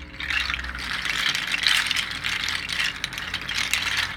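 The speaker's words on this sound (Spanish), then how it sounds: "Este instrumento, que le llaman cascada de agua o waterfall" An algarrobas waterfall rattle instrument, also called a cascada de agua, being shaken and played in a continuous rushing rattle with rhythmic surges, close and fairly loud, without talk.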